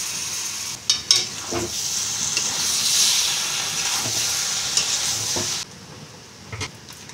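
Spice paste and tomato paste frying in a pan over a very low gas flame, giving a loud continuous hiss with a few sharp stirring knocks, before the sizzle cuts off near the end.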